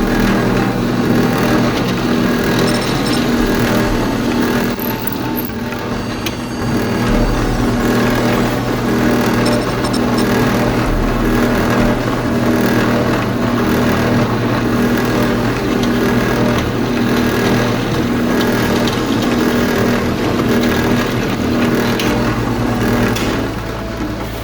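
A steady, loud motor drone from a drill boring holes in a knob runs continuously throughout, with slight changes in pitch and grinding as it works.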